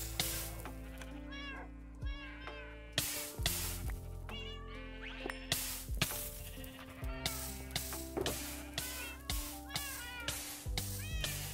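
Minecraft cats mew again and again amid bleating sheep, layered over steady game music and sharp clicking, close and continuous throughout.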